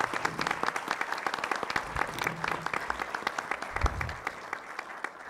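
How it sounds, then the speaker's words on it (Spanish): A large audience claps steadily throughout a formal tribute ceremony honouring a teacher's sixty years of service, the dense, continuous applause filling the hall without pause. "Vamos a darle, antes de nada, un fuerte aplauso a nuestra apreciada magíster Ruth Rizkowski."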